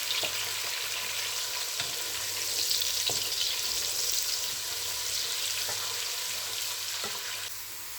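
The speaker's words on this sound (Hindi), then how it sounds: "प्याज इसको हल्का सा ब्राउन करेंगे।" Chopped onions and whole cumin seeds fry in a pan for keema gobi, a continuous bright sizzling hiss with occasional soft stirring knocks, fading slightly toward the end, no voices.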